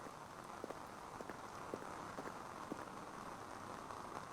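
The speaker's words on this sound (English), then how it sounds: "Oh, it is raining." Rain falls in the Lunacid video game near a forest canopy, a steady hiss of rainfall with scattered faint ticks and taps of drops throughout.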